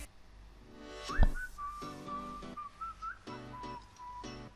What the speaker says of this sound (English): I really like the whistling, that's for sure.